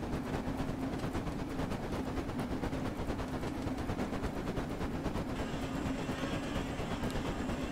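A New Zealand JA class steam locomotive in Train Sim World 2022 runs steadily with a continuous loud chuffing and rail clatter, rapid rhythmic beats throughout and a faint high whistle-like tone joining near the end; no talking.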